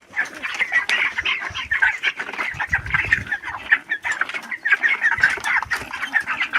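Day-21 broiler chickens in a poultry house, a close, busy chorus of clucks and chirps going on continuously with a few bumps and rustles of handling underneath.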